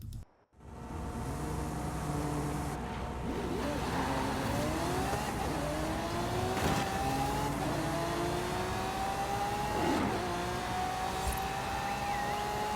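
A racing car engine in the Forza game revs and accelerates away, climbing through several gears with rising whines and brief dips at each shift, a steady loud drone throughout.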